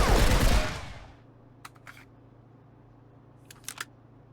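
A gun is hip-fired with recoil control in the video game Marauders: a rapid burst of loud shots for about a second, then a quick fading tail and a few faint mechanical clicks.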